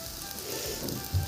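A paste of green chili and garlic fries in hot oil with onions, giving a steady close hiss and crackle that holds through the short moment without any voice.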